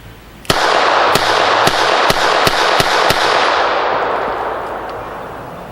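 A Taurus TCP pistol fires Gorilla Silverback .380 hollow-point rounds outdoors in seven sharp, loud shots at a brisk, slightly uneven pace, each crack blending into a long echoing roar that fades slowly after the last round.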